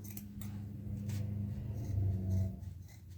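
Scissors snipping through yarn while finishing a loom-knitted hat, a few soft close cuts and rustles at low volume.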